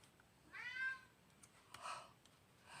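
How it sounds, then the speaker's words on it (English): A cat meows to be let out of a bedroom, giving one drawn-out meow and then a second shorter one a moment later, fairly faint against a quiet room. "I got a cat that's wanting out of the bedroom."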